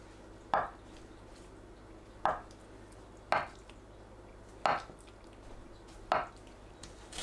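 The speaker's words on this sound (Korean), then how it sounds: "두부를 한입 크기로 썰어주세요." A knife cuts tofu into bite-size pieces on a board: five separate sharp chops land at uneven intervals over a steady low background hum, with no voices.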